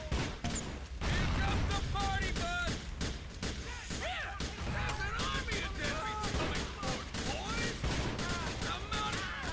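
Rapid gunfire in Grand Theft Auto 4: The Lost and Damned, with dense bursts of shots and crashes over about ten seconds, mixed with game sounds and a voice talking.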